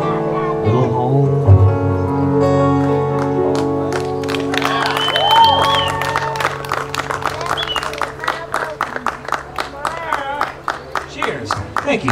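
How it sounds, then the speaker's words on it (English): Applause at The Wild Seeds Ranch starts after music ends, then thins out to one person clapping on alone in a steady, sharp rhythm, heard close and clear. "I like the sustained applause. See how that guy keeps clapping?"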